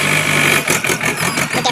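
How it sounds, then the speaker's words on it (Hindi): A tractor sowing red hybrid maize seed in a field gives a steady, loud engine drone. A faint whine fades after the first moment, and the engine keeps rumbling on its own. "ये ट्रैक्टर जा रहा है।"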